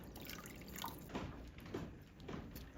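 Golden broth of onions and turmeric heating toward a boil in a pot, with faint, sparse bubbling pops and drips over a quiet background.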